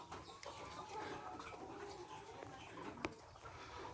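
Chickens cluck and call inside a farm shed, a steady, moderately faint flock chatter with a few sharper squawks over a constant background hum.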